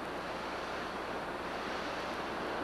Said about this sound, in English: How loud the ocean is